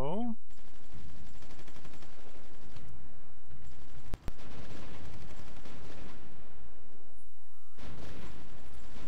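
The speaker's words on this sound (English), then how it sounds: "artillery rounds are starting to land on the Russians" Artillery fire in the strategy game Supreme Ruler Ultimate: a dense, rumbling barrage of distant shelling and rapid gunfire rolls on continuously, with a sharp click partway through and a brief lull before it resumes.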